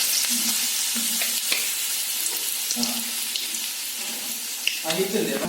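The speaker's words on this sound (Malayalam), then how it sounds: "നമുക്ക് കടുക് ഇട്ട് കൊടുക്കാം മുളക് ഇട്ട് കൊടുക്കാം" Mustard seeds and dried chillies crackle and sizzle loudly in hot oil for a Kerala fish pickle, with bursts of popping and scraping over a constant hiss.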